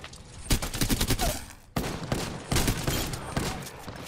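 Apex Legends gunfire in rapid bursts, loud automatic shots rattling close in two long volleys separated by a brief pause, with no voices.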